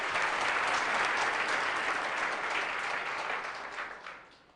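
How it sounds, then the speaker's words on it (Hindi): An audience at a lecture by an IAS officer claps together, a dense, steady burst of applause that stays loud for several seconds and then tapers off toward the end, with no speech over it. "तो इस बात ताली बजाएंगे इस बात पे।"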